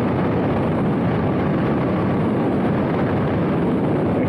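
Zero electric motorcycle accelerating at full torque, a steady broadband rush of motor whine and wind noise, loud and continuous throughout with no talking.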